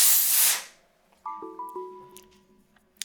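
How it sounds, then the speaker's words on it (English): A loud, close blast of compressed air is aimed at the processor heat sink inside a 2012 MacBook Pro and quickly fades out. A few faint tones and light handling clicks follow. "Hit this with compressed air"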